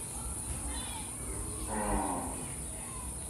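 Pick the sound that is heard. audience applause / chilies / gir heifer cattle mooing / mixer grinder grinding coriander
gir heifer cattle mooing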